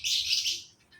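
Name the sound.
bird chirping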